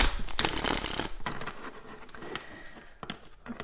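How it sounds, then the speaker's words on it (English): Tarot deck being shuffled by hand, a dense riffling patter of cards that is loudest in the first second, then continues as softer, intermittent shuffling and card handling with small taps. "I do like to shuffle on camera for that."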